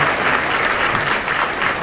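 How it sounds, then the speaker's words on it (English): Audience applause at a mayor's ball in Phenix City fills the room, a steady, dense clapping from a crowd that stays loud throughout without pause. "they deserve a round of applause like none other"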